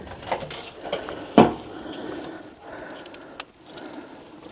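An old metal wash pan built into volcanic rock at an abandoned underground site being handled, giving a few sparse, light clanks and scrapes with one sharper knock, close by and otherwise quiet.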